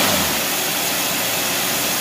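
A carbureted engine is revved hard against its 5,500 RPM rev limiter, giving a loud, steady, close-up roar that holds at full pitch for two seconds with no other sound.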